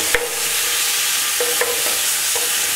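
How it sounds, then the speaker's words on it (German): Beef sears in a hot pan for Polish bigos, with a steady, close hiss of sizzling broken by a few light clinks of stirring. "jetzt nehmen wir mal das Rindfleisch und auch das braten wir an"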